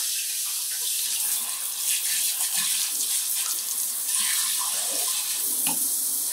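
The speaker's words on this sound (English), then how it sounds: "will it cause anything bad to happen if I run water in the pot now that I've done that?" Tap water runs steadily into a pot at a sink while making iron gall ink, a continuous splashing hiss that shifts slightly in tone as the pot fills.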